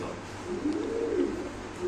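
A pair of tiger-coloured pigeons offered for sale gives a short, soft cooing call, a low murmuring coo heard up close against a quiet background.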